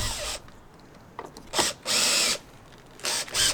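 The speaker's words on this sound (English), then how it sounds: "we're putting screws right along here and here, and we're just bringing everything back in together" A power drill drives screws while a Type R lip is fitted to a 10th-gen Honda Civic: several short whirring bursts of varying length with pauses between, close and loud, and no talk.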